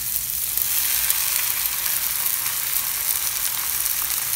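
Soaked rice added to tomato and ginger-garlic paste frying in a pressure cooker for chicken biryani, a steady even sizzle holding at moderate level throughout, no talking.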